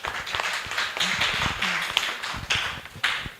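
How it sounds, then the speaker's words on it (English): An audience at a women human rights defenders' conference applauds, bursts of hand clapping rising and falling steadily and fairly loud throughout. "A big hand clap to you all."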